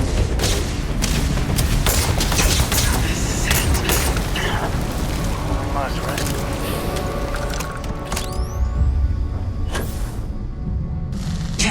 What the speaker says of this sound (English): what the hell is he shooting me with?